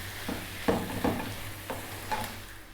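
A spoon stirs cooked potatoes and green beans in a pan, Indian-style dry fry, giving a few distinct scraping strokes over a soft steady sizzle, close and moderately loud with no talking.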